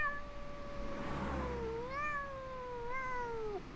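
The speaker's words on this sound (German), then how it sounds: "Ah, das ist eine Katze" A single drawn-out cat meow from a video game, clear and fairly close, rising and falling in pitch over a soft low hum.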